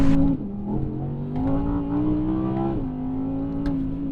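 A second-generation Audi R8 accelerating hard on a country B road, its engine note droning and climbing through the revs with shifts in pitch, heard close from inside or near the car, with no talking.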